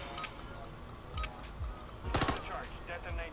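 Gunfire in a search-and-destroy match of a first-person shooter game, a handful of short shot bursts and a quick rattling volley, fairly quiet, mixed with other game sounds.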